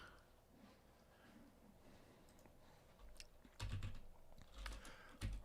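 Quick keystrokes on a computer keyboard come in a faint, irregular patter that turns into a few louder clacks and taps toward the end, close and quiet with no talking.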